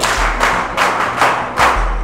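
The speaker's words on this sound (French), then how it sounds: "Très bien, applaudissez pour elle." Classroom students clapping for a classmate, a loud, rough burst of applause with a few heavy thumping beats layered over a low rumbling background, close and full throughout.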